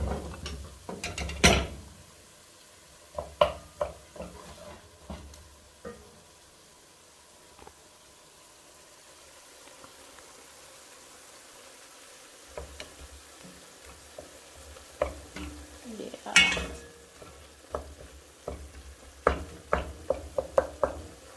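Soft tomatoes sizzling in a pan while being stirred and mashed, with intermittent scraping and clattering bursts of utensil against pan over a quiet simmering bed, louder clusters near the start and middle.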